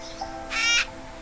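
A bird in the video game Flyto gives a single loud, harsh caw lasting about a quarter second, alone over faint background game ambience.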